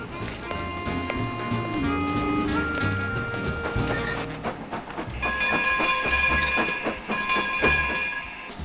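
Train sound effect for a children's story, with rhythmic clacking of rail cars and bright whistle-like tones over a steady rumble, moderately loud and continuous, a second tonal layer entering partway through.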